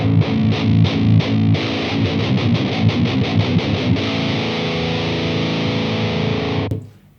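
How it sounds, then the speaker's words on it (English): Electric guitar through a transistor distortion pedal's bottom shaker channel for a Swedish death metal rig, playing chugging palm-muted riffs, then a long sustained distorted chord that rings out and is cut off abruptly. "one rather boring sounding transistor distortion, which is called the bottom shaker channel."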